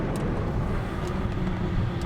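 A Ford F-250 diesel pickup cruises along a county road, its engine giving a quiet, steady low rumble with road noise heard from inside the cab.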